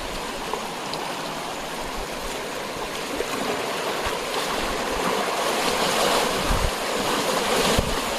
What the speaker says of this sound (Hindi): ये तेज फ्लो, पैर उखड़ रहे हैं।